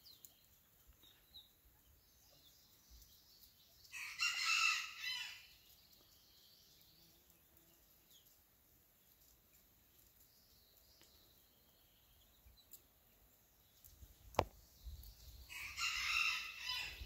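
Seven-week-old pheasant chicks from a flock of about sixty to seventy call in two short, high-pitched bursts several seconds apart, faint and slightly distant in an otherwise quiet pen.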